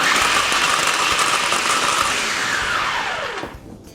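A blender runs continuously on homemade laundry detergent powder, a loud close whirring motor that holds steady, then winds down and drops in pitch as it stops near the end.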